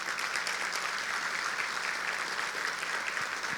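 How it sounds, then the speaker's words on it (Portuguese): Continuous applause from a church congregation, a dense even wash of clapping that holds steady for a few seconds. "pode aplaudir"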